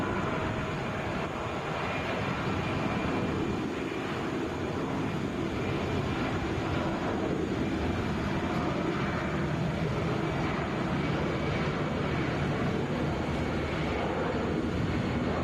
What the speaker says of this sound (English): This is Delta 2400, headed to New Orleans, Boeing 757.